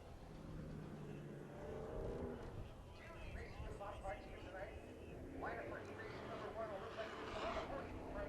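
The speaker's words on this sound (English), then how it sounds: "next up, coming out on track, we've got ourselves some IMCA Modifieds" IMCA Modified race cars rolling out onto the track at Bakersfield Speedway, their engines a steady droning roar with some revving, heard under continuous announcer talk.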